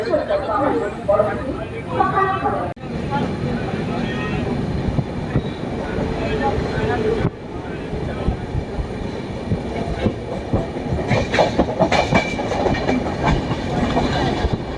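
Inside the Dhauli Express from Balasore to Shalimar, the train rumbles steadily along the rails with a continuous low roar and faint clickety-clack, cabin noise throughout, with indistinct passenger chatter in the background.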